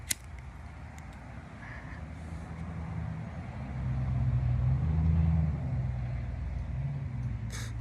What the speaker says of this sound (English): And two vehicles going by.